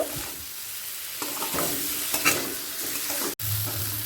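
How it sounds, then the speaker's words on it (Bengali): Fried eggs are stirred and sautéed in a thick spice masala for an egg kosha curry, a continuous close sizzle with occasional scraping stirs and a short break shortly before the end, heard without voices. "ডিমটাও এক মিনিট মশলার সাথে কষিয়ে নেব"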